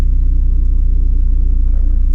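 A turbocharged Devcon B20 car engine idles loud and close, a steady low rumble with a fast, even pulse and no voices.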